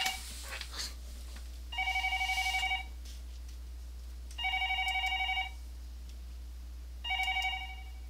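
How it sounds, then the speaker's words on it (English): An electronic telephone ring in the Higurashi When They Cry visual novel, three evenly spaced bursts of trilling tones about a second long, over a steady low hum, with no talk. "Man, that phone just keeps on ringing."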